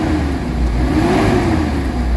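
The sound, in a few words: Mitsubishi Adventure engine revving after XADO engine treatment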